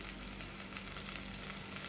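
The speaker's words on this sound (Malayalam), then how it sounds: "അപ്പോൾ രണ്ടും കൂടെയാണ് ഞാൻ വറുത്തെടുക്കുന്നത്." Drumstick seeds and green peas fry in a pan for a payasam, giving a soft, steady sizzle with no voices over it.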